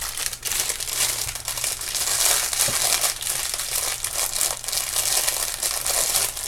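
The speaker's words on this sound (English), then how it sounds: "Sorry for all the rustling." Steady loud rustling and crinkling of packaging as a Paparazzi welcome kit is unboxed, dense crackly handling noise lasting the whole stretch without talk.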